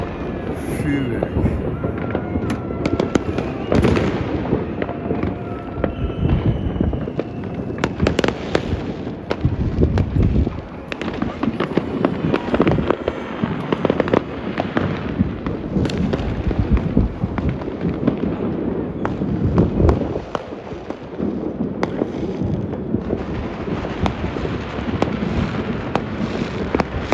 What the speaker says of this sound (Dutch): Vuurwerk.